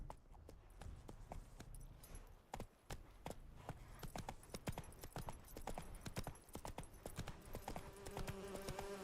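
Roach, Geralt's horse in the video game The Witcher 3, galloping with rapid, rhythmic hoof clip-clops, loud and close, alone without talk.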